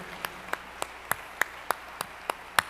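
Hands clap in a steady, evenly spaced rhythm at a church family-week gathering, about ten crisp single claps in under three seconds, moderately close with no voices over them.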